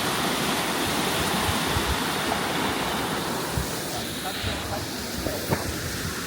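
Rushing mountain river water in the Bavarian Alps, a steady, loud broadband roar of whitewater that fills the whole clip without pause, with no voices over it.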